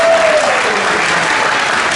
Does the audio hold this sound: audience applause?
yes